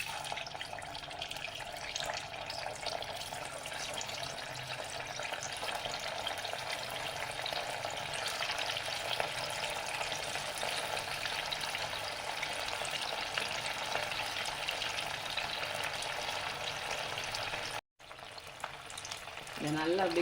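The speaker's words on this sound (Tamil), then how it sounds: "இப்போ இதில் கொஞ்சம் கொஞ்சமாக போட்டு ஃப்ரை பண்ணி எடுத்துக்கலாம்" Pieces of sepang kilangu (taro root) deep frying in hot oil, a steady bubbling hiss held at an even level for a long stretch, close, with a brief break near the end.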